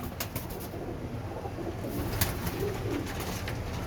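Teddy pigeons cooing at the Shahdra pigeon market in Lahore, low repeated coos beneath a constant hiss of market background noise with scattered sharp clicks.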